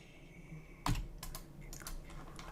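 Computer keyboard keys tapped while modelling in SketchUp, one firm keystroke followed by a series of lighter clicks, close and fairly quiet against steady room noise.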